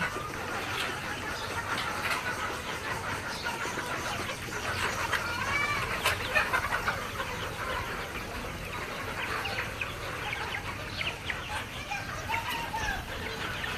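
Many Egyptian Fayoumi chickens cluck and chatter continuously in a dense farm flock, a steady barnyard murmur with occasional sharper calls.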